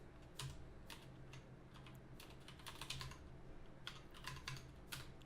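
Computer keyboard keys tapped in quick irregular bursts while a terminal command is entered, crisp close clicks with short pauses between groups and no speech.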